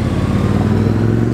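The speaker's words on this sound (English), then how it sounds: "Check out the Ducati, yes sir." Ducati motorcycle engine leaving a Sydney street car show, a loud close throbbing idle with a rapid uneven pulse, brief and without talk.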